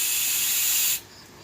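Butane gas hisses steadily from a refilled lighter for about a second, loud and close, then cuts off abruptly, leaving quiet room tone.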